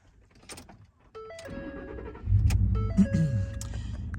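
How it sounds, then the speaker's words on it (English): Keys clink, then a pickup truck fitted with a switch panel has its ignition turned, with chimes and an engine catching and running at a close, steady idle, no talking. "Okay, I'm going to start the truck."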